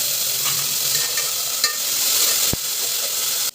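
Mutton pieces go into a hot pan of ghee and spices and sizzle loudly and steadily, with stirring scrapes and a sharp clink partway through.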